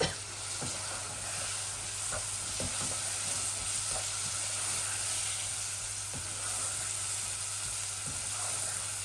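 Dried gajar fish (shutki) frying in oil with radish, giving a steady, even sizzle close by, broken now and then by soft clicks and pops, with no talking.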